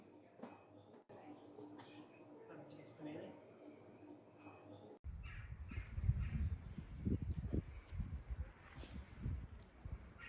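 Crows caw a few times around a medieval castle on the Isle of Wight, the calls moderately distant, later joined by gusty wind and rustling outdoor noise.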